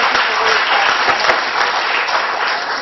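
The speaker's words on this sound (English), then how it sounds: "So how about a nice round of applause for Alex and the seniors?" Dense, steady applause from a crowd at a school district board meeting, filling the room evenly from start to finish with no voices over it.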